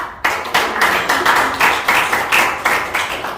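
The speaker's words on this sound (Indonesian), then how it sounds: "Tepuk tangan untuk kelompok." A group claps in steady unison, about a dozen sharp, evenly spaced claps in a quick, regular rhythm, close and fairly loud.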